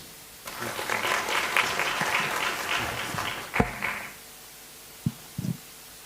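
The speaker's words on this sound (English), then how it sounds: "give her a round of applause as she gets back to her seat" Audience applause at a space innovation and investment forum, a few seconds of moderate clapping that stops abruptly, followed by a couple of faint thumps in a quiet room.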